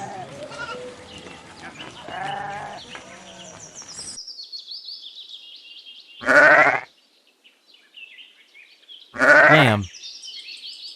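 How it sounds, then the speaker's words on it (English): Sheep giving two loud, separate bleats several seconds apart, each a strong wavering cry, with faint chirping birds in the background. "Sheep."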